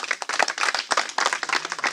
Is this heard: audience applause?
yes